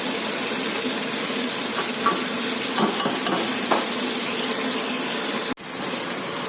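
Artichokes barigoule with homemade tomato sauce are stirred in a hot pan: a steady sizzle with intermittent scraping strokes, close up, cut briefly near the end.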